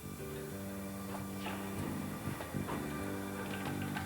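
Outeniqua Choo-Tjoe tourist steam train running near the coastal town of Knysna on South Africa's Garden Route: a continuous rumbling drone with steady tonal hum and irregular clanks, moderately loud and unbroken, with no voices.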